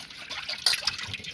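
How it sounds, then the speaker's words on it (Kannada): Water poured into a cooking pot to rinse it after making traditional Sankranti kalu, a steady close splashing trickle with a brief louder gush midway. "ಈ ಪಾತ್ರೆಯನ್ನು ಒಂದ್ಸಲ ನೀರು ಹಾಕಿ ತೊಳ್ಕೊಬೇಕು"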